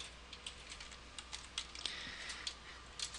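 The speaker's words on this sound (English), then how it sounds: "So we'll type in gateway." Keys on a computer keyboard being typed during a CentOS 6.4 minimal install, a quiet, close run of irregular clicks and taps, with short pauses between bursts and no talking.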